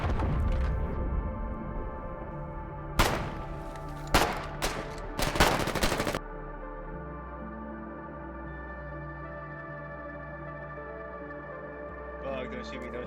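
Gunfire in the war game Foxhole: several sharp, loud bursts of shots cluster in the first half, then give way to a steady low drone with faint background sounds.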